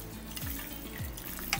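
Water pours and splashes into a bowl holding two spoonfuls of flaxseed, a steady close liquid wash with a few gurgling bubbly drops and no talking.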